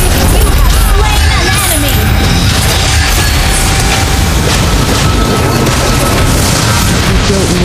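Mobile Legends turret being destroyed during a ranked match: loud booming crash and burst amid dense game effects, continuous and busy, with an announcer-style voice over the din.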